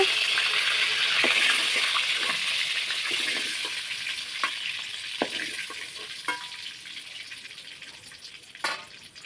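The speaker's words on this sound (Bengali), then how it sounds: "আজকে কিন্তু পনিরটাকে রান্না হালকা হালকা করে ভেজে নেওয়া হচ্ছে।" Paneer pieces lightly frying in hot oil for a festival pulao, a steady hiss with scattered crackles and pops close by, fading slightly toward the end.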